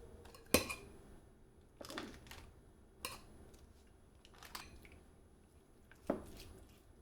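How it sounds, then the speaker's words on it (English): Smoked oyster being worked into cream cheese in a bowl for a smoked seafood dip, heard as quiet, intermittent squishing and scraping strokes with a few utensil clinks against the bowl. "So we go ahead and start mixing this in together and kind of work that oyster into the cream cheese"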